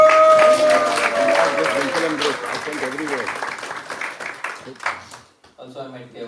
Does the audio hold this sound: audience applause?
yes